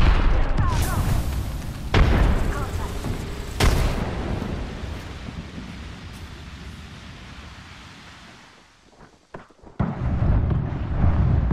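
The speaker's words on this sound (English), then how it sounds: "Throw my grenade out." A grenade goes off in the Apex Legends video game as two sharp, heavy booms a couple of seconds apart, each trailing into a rumbling roar that fades before more gunfire-like noise returns near the end.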